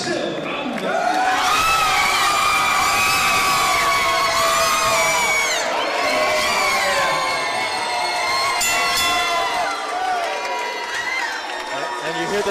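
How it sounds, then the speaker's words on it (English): Crowd at a boxing match reacts to a unanimous decision, a loud sustained roar of jeers and shouting from many voices that swells and lingers throughout. "The boos from the crowd."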